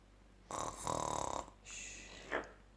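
A child makes a snoring sound on request, imitating snoring with the voice: a rough, buzzing inhale of about a second, then a softer second breath with a brief sharp catch at the end.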